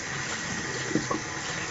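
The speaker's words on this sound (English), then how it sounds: "Some cold water on my towel" Cold water runs steadily from a tap onto a towel, a quiet, even hiss and trickle with a couple of faint splashes near the middle, alone without talk.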